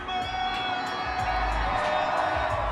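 A large crowd cheers and shouts at the Astros World Series victory parade in downtown Houston, a steady outdoor roar with whoops rising over it.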